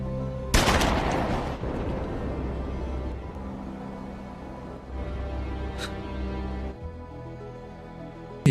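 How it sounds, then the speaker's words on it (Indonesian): Gunfire in an action scene from the 2002 film Transporter, a loud burst opening the clip followed by a sustained rumbling, tense soundtrack and a sharp later crack, with no talk. "ayah dari Kwai pun tersungkur dengan luka tembak yang tepat mengenai dadanya"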